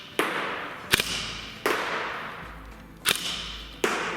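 A G&G Firehawk high-cycle airsoft rifle fires five single shots, each a sharp snapping crack with a short tail, spaced unevenly over about four seconds with no talking.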